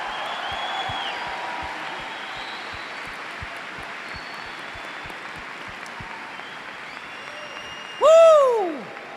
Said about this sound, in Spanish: denles aplauso fuerte al Rey.